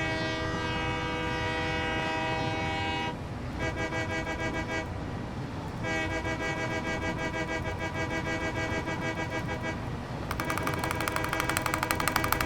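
A train runs in the Satisfactory video game, a continuous loud rumble overlaid with sustained tonal horn-like blasts that stop and start, rising into a brighter, denser tone at the end.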